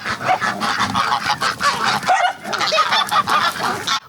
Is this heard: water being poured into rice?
no